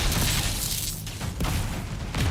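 Explosions go off in Dragon Age Inquisition's Trespasser DLC on a long bridge, a dense rumbling series of booms and bursts that stays loud throughout and swells again near the end.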